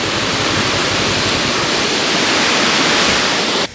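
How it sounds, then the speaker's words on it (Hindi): Loud, constant roar of a waterfall crashing down nearby at Srisailam Dam, a dense rushing wash that cuts off abruptly at the end. "बस पानी गिर रहा"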